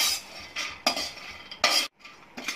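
Roasted peanuts are stirred in a pan, making a run of rattling, scraping strokes with a few sharp clinks, close up and without talk.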